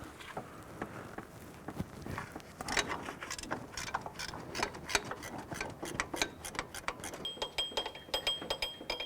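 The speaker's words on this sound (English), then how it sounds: "I'm going to use our 12mm gear wrench, and we're going to loosen this lower adjuster as well" A 12mm gear wrench ratchets on a pivot bolt of a 2001-2005 Honda Civic, giving irregular bursts of close, sharp clicking with small metallic knocks and no talk.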